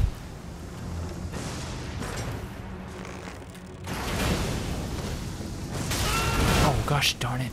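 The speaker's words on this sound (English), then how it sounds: "A really delayed explosion on that." In Elden Ring, a delayed explosion swells from a rumbling build into a loud, broad roaring burst with crackling debris near the end, over game ambience and a player speaking.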